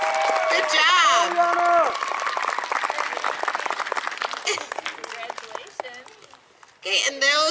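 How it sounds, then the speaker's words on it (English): An audience applauds an honor roll student at an M.C.O.B. school recognition event, with a burst of clapping mixed in with a speaker's voice over a room crowd. "Big round of applause, MCOB round of applause."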